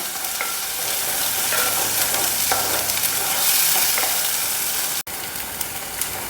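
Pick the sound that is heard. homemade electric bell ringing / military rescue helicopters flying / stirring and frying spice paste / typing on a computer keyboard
stirring and frying spice paste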